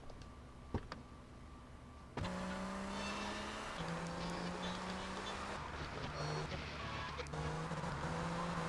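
A car in the video game Vice City starts up and drives steadily, revving through gear shifts with a continuous engine drone, preceded by a couple of clicks.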